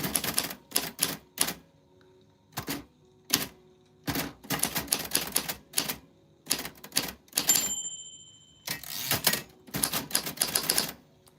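Typewriter keys struck in quick irregular bursts, each clack crisp and close, with short pauses between runs of typing and the occasional ding and carriage sound.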